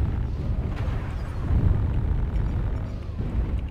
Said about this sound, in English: Target spotted. Artillery strike activated.